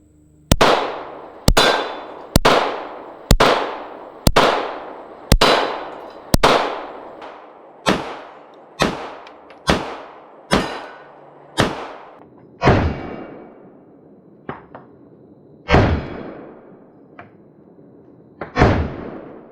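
A PSA Dagger 9mm pistol fires 124 grain full metal jacket rounds: about fifteen sharp, loud shots, evenly spaced at first, then with longer gaps, each ending in a short ringing echo.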